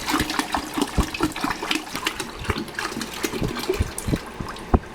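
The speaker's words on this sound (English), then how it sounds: "So I have almost exactly a gallon of water here that I'm going to pour in." A gallon of cold water pours steadily into condensate water in a DIY 12-volt heat exchanger setup, a continuous gushing, splashing stream with bubbling bursts, close and fairly loud, with no talking.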